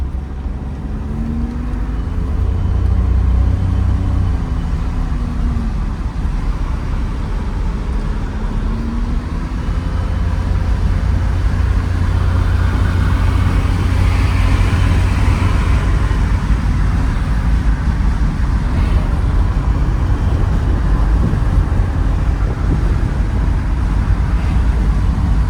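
A Suzuki Cappuccino driven gently just after leaving a storage unit, with a steady low engine drone and road rumble throughout, close and continuous with no talking.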